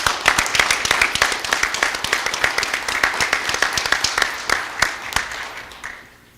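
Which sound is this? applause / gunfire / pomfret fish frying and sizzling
applause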